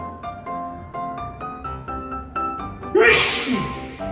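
A single loud, sharp sneeze bursts out near the end, over steady background music with a regular beat.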